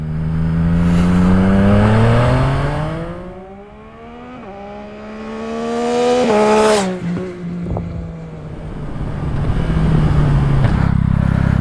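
Yamaha MT-09 SP motorcycle with a Spark full exhaust system revving hard, its engine note rising and falling through several loud sweeps with sharp throttle blips and a burbling idle at the end.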